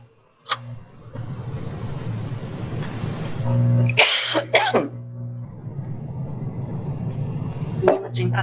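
A woman with the flu coughs in several harsh bursts, close and loud, with throat clearing between them over a low background hum.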